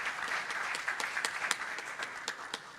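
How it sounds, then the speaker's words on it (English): An audience at a World Bank Indonesia economic report launch panel gives a round of applause for a panelist, a continuous stream of many hands clapping with distinct sharp individual claps standing out, steady and moderately near. "So a big round of applause to Ibu Fauzi as well."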